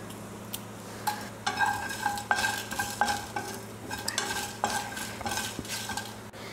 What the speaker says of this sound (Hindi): थोड़ा सा ये साबुत मसाले पहले भून लें